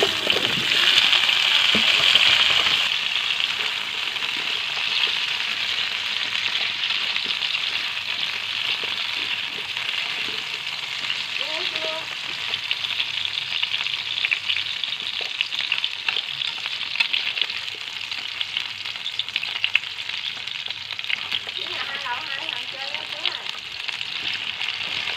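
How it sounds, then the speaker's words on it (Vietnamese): Taro pieces frying in hot oil in a pot, a loud continuous sizzle and bubbling hiss that stays steady for about twenty-five seconds with occasional stirring and faint talk in the background. "Môn này mình chiên sơ cái mình bỏ vô cái nồi này luôn ha."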